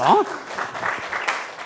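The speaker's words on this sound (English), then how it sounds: "you can give a round of applause" A lecture audience breaks into applause during a talk on public speaking, a dense patter of many hands filling the room after a brief spoken word from the presenter at the start.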